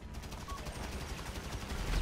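Rapid gunfire in Grand Theft Auto V, a fast run of repeated shots like automatic fire, fairly faint and continuous, growing slightly louder toward the end.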